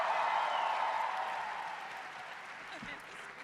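An audience at a cosplay championship applauds, a broad wash of clapping that starts full and gradually tapers off, with a faint voice briefly surfacing near the end.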